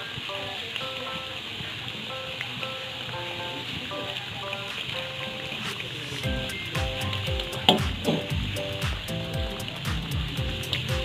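Gemblong, a traditional sweet snack, fries in very hot oil with a steady bubbling sizzle; partway through, sharper crackles and clinks of stirring join in.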